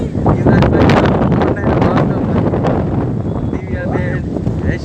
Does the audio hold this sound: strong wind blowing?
yes